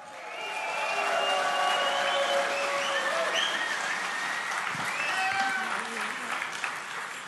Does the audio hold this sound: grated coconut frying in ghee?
no